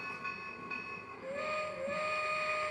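A faint steady tone like a toy train whistle sounds quietly, joined midway by a second rising pitch, with mechanical hum underneath.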